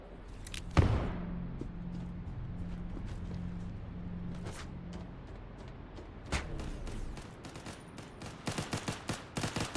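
A carbine in a sci-fi shooter video game fires in a loud opening burst, then rapid SMG-like bursts of shots follow amid mechanical clicks and thuds, ending in a quick run of sharp reports.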